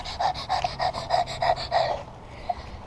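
A person's voice imitates fast panting after running, a rapid even run of about eight breathy huffs close to the mic that stops abruptly, leaving one faint trailing breath.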